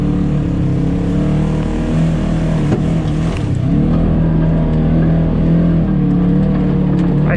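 A Polaris RZR S 1000 side-by-side climbs a steep wooded trail. Its engine gives a loud, constant close-up drone with slight swells and strain, and no voices are heard.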